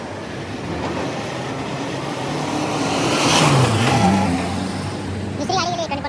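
A car passes on a road near Mumbai, a steady engine and tyre rush that swells to a peak around the midpoint and then fades, fairly loud and close, with no one talking over it.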